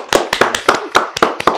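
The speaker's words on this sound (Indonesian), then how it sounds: "Tepuk tangan buat saya." A single pair of hands claps about eight times in a quick, slightly uneven rhythm, close and loud, with no other sound around it.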